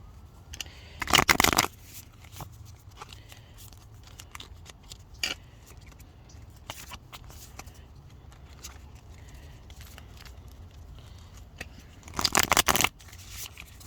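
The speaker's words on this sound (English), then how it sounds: "One more shuffle." Two short bursts of tarot card shuffling, one early and one near the end, with quiet soft handling noises in between.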